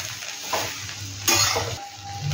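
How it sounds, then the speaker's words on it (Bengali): Vegetables for bread upma fry in a pan with a soft sizzle while a spoon stirs and scrapes, including one louder scrape near the middle. "এবার এটা দেখো একটু ভাজা ভাজা করে মিশিয়ে নিচ্ছি"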